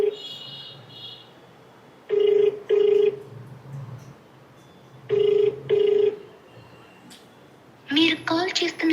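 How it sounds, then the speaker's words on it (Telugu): An unanswered telephone gives two paired ring bursts separated by quiet gaps, then a different electronic tone pattern starts near the end. "ఫోన్ రింగ్ అవుతుంది, లిఫ్ట్ చేయట్లా."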